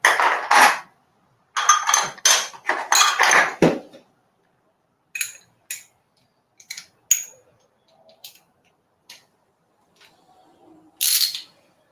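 Ratchet and extension tools handled during work on a Harley Screaming Eagle extreme air flow breather, giving close, sharp metallic clinks and rattles in bursts, with quieter scattered taps and clicks in between.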